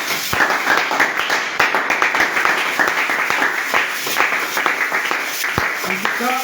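A church congregation at Elohim Tabernacle applauds with steady, dense clapping that carries on throughout, while a voice speaks over it.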